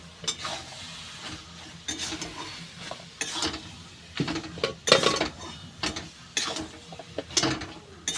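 A spoon stirs cabbage curry with roasted cumin powder in a pan, making repeated scraping and clattering strokes over a soft sizzle, close and uneven in rhythm.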